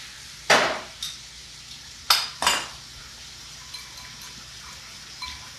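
Seared beef steak pieces for a broccoli ramen stir fry are flipped in a pan, giving a few sharp metallic clanks and clinks in two close pairs over a low, steady background.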